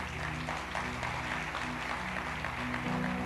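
A church congregation applauds during a service, a steady, moderately loud spread of clapping that blends with sustained background music and a low hum.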